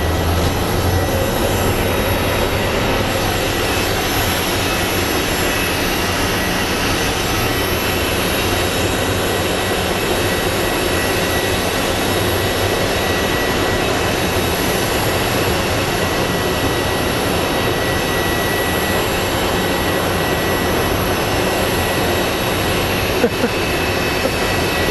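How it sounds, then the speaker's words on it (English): A Delta airliner arrives on the runway at Phoenix Sky Harbor International Airport, its broad steady jet roar filling the air continuously, loud and sustained with a distant, open quality. "the Delta is arriving"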